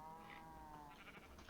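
A sheep in the video game Minecraft lets out one drawn-out bleat that wavers at the close, loud and near, with no voices.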